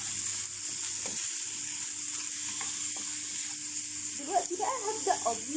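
Browned chicken pieces and small diced onion sauté together in a pan with a continuous moderate sizzle; stirring scrapes and clatters grow busier near the end.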